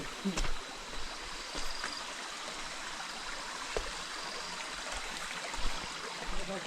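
Soft, continuous babble of a flowing stream in dense forest at night, with occasional faint knocks and voices in the background.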